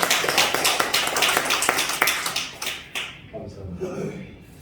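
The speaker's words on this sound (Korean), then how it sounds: "우리 목사님 박수 한번 쳐주세요." A church congregation at a Korean Sunday service in Incheon bursts into loud applause, with dense rapid clapping that tapers off after about three seconds into quieter room sounds.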